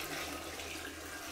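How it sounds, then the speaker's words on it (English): Hot water pours into a clogged toilet bowl. A steady, close splashing rush runs without a break for the whole short moment. "And just pour it down into the toilet."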